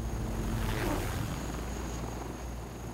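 Steady, dense rotor rumble and whine of a combat helicopter, continuous and moderately distant, with no voices.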